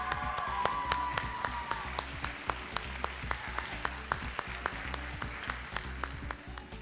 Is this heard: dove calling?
no